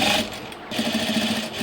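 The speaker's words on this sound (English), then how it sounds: "I'm just going to sew all the way around this edge, leaving probably a 2 or 3 inch gap so that I can turn it right sides out" A sewing machine runs steadily, stitching around the edge of a piece of fabric, its close, loud mechanical whir dipping briefly before carrying on alone.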